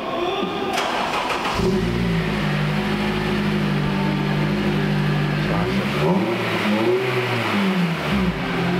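A car with a newly fitted exhaust back box starts up from cold and revs, a close, loud engine roar rising and falling in pitch with a couple of throttle blips.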